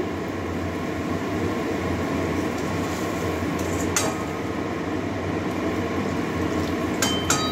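Water poured over fried pointed gourd (potol) in a hot pan for a chhana-stuffed potol dorma sets off a loud, steady broadband sizzle and bubbling hiss that runs unbroken throughout, with a couple of faint clinks.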